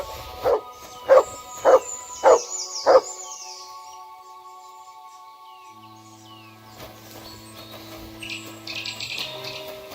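Mutt the dog in Kingdom Come: Deliverance II gives five sharp, evenly spaced barks close by. Quieter game ambience with birdsong and faint tonal sounds follows.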